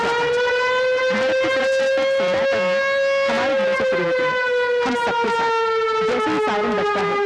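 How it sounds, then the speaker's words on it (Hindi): A loud air raid siren wails steadily, its tone slowly rising and falling, with faint background sounds underneath. "लेकिन जब सायरन बजता है माहौल पल भर में बदल जाता है"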